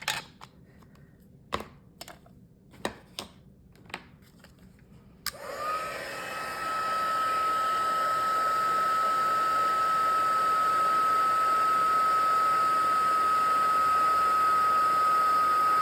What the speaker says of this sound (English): And then we're going to use our heat tool.